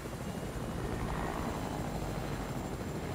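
A helicopter engine in a video game drones as a steady, dense whirring rumble with rotor chop, constant in level and moderately faint, with no talking.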